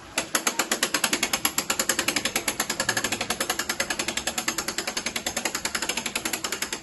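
Winding mechanism of a model pagoda clicks steadily like a ratchet, a fast even run of close, crisp mechanical ticks lasting throughout with no talking.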